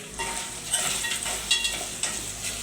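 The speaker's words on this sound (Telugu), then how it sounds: "మరి డీప్ ఫ్రై ఎవరివ్వకూడదు, ఇలాగా సమంగా వేపుకోవాలండి" Mutton keema frying evenly in a pan, a dense continuous sizzle close up, broken by a few scraping stirs of a spatula, with no talking.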